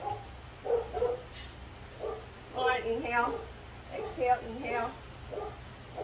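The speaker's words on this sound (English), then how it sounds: "You can hear my dogs barking." Dogs bark in short repeated bursts somewhere in a home during an indoor dumbbell workout, the barks mixed with a woman's spoken breathing instructions.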